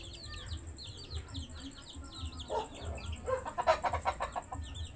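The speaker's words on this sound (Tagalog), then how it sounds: "ito yung ating mga sisiw 2 weeks old na sila" Two-week-old chicks chirp in repeated high peeps over a low, steady background, with louder clustered calls near the end.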